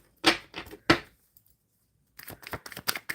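Tarot cards being shuffled by hand in crisp bursts, a few quick riffles, a pause of silence, then a longer run of rapid shuffling close up.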